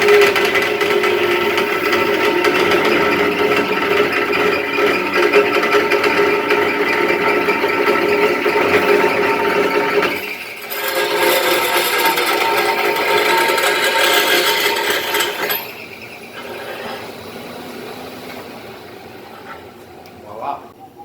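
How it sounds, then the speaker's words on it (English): A drill grinds continuously and loudly while boring out a bolt hole in the track bar mount of a Jeep Grand Cherokee WJ, briefly easing, then resuming before tapering off, with someone talking over the noise. "I'll go ahead and drill out the hole on there to accommodate this bolt"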